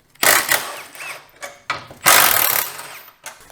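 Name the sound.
ratchet removing 13 mm bumper bolts on RAM TRX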